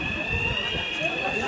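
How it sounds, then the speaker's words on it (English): A fire alarm rings steadily during a fire drill, a continuous high electronic tone running throughout, loud and unbroken, with people's voices and movement around it. "Fire alarm!"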